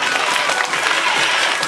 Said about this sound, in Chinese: 答对，请按掌声鼓励